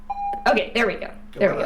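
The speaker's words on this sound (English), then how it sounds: "So that's our doorbell." A video game doorbell rings: a short electronic chime, then a person talks over and after it, the tone continuing faintly beneath the voice.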